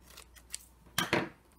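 Scissors trimming the edges off a paper doily: a few light snips, then two sharper, louder cuts close together, nearby and alone.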